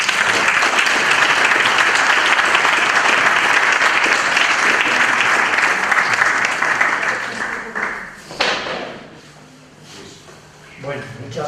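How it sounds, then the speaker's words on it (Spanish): Audience at a lecture event in Azagra breaks into loud sustained applause, clapping steadily for several seconds before tapering off into scattered claps, with a voice briefly audible at the end. "os dejo con él, un aplauso y muchas gracias"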